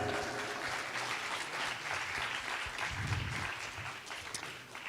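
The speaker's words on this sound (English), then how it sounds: "let's hear a huge round of applause for our young speakers." An audience claps in an auditorium, a continuous dense applause that holds steady for several seconds before tapering slightly, with no voices over it.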